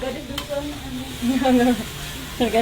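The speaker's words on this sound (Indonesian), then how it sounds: "Ini bumbu yang sedang ditumis oleh saudara-saudara ya." Spice paste being stir-fried in a pan for a noodle dish with cabbage and rice vermicelli, giving a steady sizzle with scraping stirs throughout and a brief louder burst near the end.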